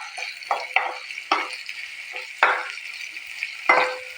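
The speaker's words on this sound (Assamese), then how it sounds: "পিঁয়াজখিনি মই 2 মিনিট সময় ভাজি লোৱাৰ পিছত ইয়াতে দিছোঁ আদা নহৰুৰ পেষ্ট এটা।" Onions and ginger-garlic paste fry in a pan on a high flame, a steady close sizzle broken by repeated bursts of louder crackling and stirring scrapes roughly every second, with no talking.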